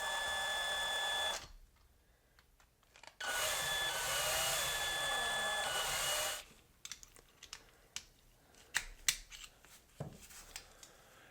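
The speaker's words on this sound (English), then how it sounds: "We're gonna have to drill." A drill bores out small rivets on an ugly Mustang wagon, two loud sustained bursts of whining with a pause between, followed by scattered clicks and knocks as the tool is handled.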